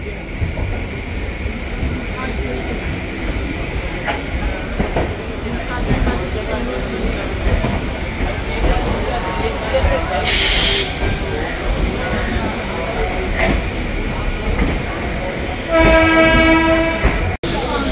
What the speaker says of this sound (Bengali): मेमू पैसेंजर 7 नंबर प्लेटफॉर्म থেকে ছাড়বে